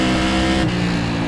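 A stock-car racer in the iRacing sim at North Wilkesboro roars past, a loud close engine drone that dips in pitch partway through the brief pass.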